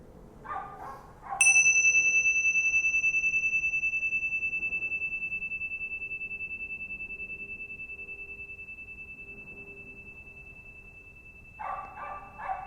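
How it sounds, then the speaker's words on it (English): A single struck meditation bell rings out clearly once and sustains a long, slowly fading pure tone for about ten seconds in a quiet room during mindfulness practice, with brief soft talk before and after. "you're listening to the sound of the bell moving through time, or time moving through the sound of the bell"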